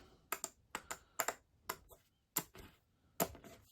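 A deck of cards from the board game SpaceCorp: 2025–2300 being quickly shuffled: a series of sharp, crisp riffling bursts in uneven clusters, close and fairly quiet, with no voices.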